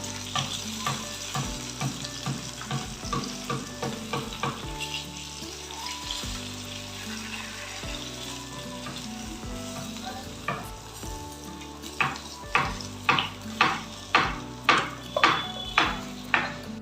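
Fish pieces fry in oil in a pan with a continuous sizzle, while a utensil scrapes and taps the pan in a quick regular rhythm that grows louder and sharper toward the end.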